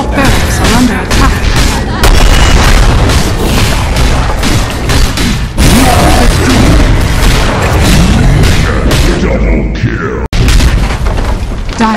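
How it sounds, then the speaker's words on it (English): Barracks being destroyed in Dota 2 amid a loud, dense stream of booms, crashes and rapid bursts of combat, overlapping without pause for the whole stretch. "Dire's middle barracks has fallen."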